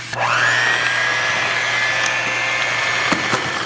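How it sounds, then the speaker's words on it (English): Handheld electric mixer whirring steadily through muffin batter, a loud, continuous motor whine that rises briefly as it spins up and then holds constant, close by with no talking. "then we're going to mix it with our handheld mixer one more time"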